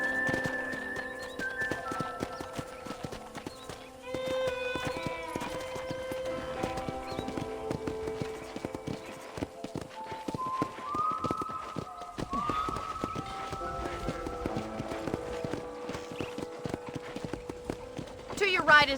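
Horse hooves clip-clop steadily at a walk on a ranch in Red Dead Redemption, under sustained musical tones and someone talking.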